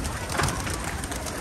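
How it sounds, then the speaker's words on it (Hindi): Pigeons crowding over scattered grain, soft cooing and wing flutters mixed with dense outdoor background noise, fairly close, with no clear talk. "वो देखें दाने को कैसे पड़े हैं कबूतर सारे"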